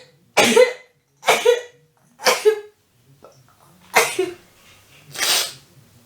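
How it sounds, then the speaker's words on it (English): A person sneezes close to the microphone in a series of about six sharp, explosive bursts with short pauses between them. Some bursts sound more like coughs. "I sneezed."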